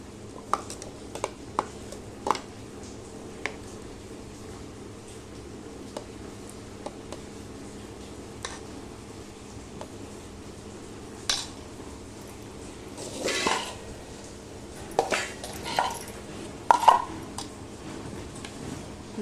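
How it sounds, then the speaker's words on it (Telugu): Curd rice being packed into lunch-box bowls in a home kitchen: sparse soft clinks of spoon and steel bowls, quiet scraping and a few sharper knocks clustered near the end. "ఇంకో గిన్నెలో పెరుగన్నం పెడుతున్నా"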